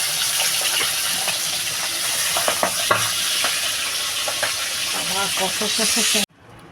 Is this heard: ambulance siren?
no